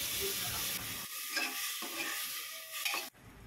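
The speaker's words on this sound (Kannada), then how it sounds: "ನೆಕ್ಸ್ಟ್ ಮೊಳಕೆ ಕಾಳನ್ನ ಹಾಕ್ಕೊಂಡು ಕೂಡ ಅದನ್ನೊಂದು 5 ನಿಮಿಷ ಫ್ರೈ ಮಾಡ್ಕೊಳ್ಳಿ" Sprouted gram frying in oil in a pan while being stirred, steady sizzling with scraping stir strokes and brief clatters, close and fairly quiet, no voices.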